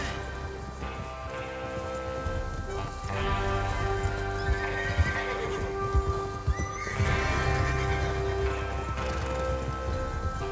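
Horses in the Red Dead Redemption video game clip-clop steadily with occasional whinnies, under layered music and ambient rain-like texture at moderate loudness.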